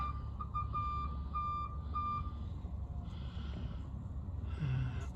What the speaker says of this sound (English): Should be backup light switch, judging by the connectors. Oh, I hear a beeper.